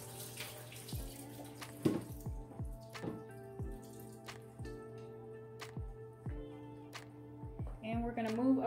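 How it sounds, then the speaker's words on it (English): Soaking water from red beans is poured off into a sink, with a steady trickle and many splashing drips and plops close by. "Pour out this water."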